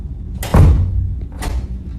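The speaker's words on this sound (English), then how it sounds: "Like someone was hitting and trying to break the door aggressively" Door being hit aggressively in a stairwell, captured on a police officer's body camera: two heavy, close thumping bangs about a second apart, booming and resonant.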